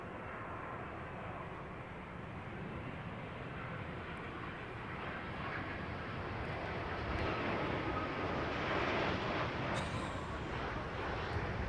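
A jet airliner landing at London Heathrow with thrust reversers makes a broad, steady roar that swells slightly louder toward the end. It is heard alone, with no voices.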